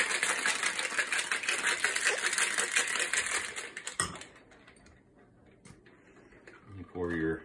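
Cocktail shaker with ice shaken hard while mixing a Millionaire cocktail, a loud, steady rattling chatter for about four seconds that stops abruptly, followed by quiet handling noises and a brief voice near the end.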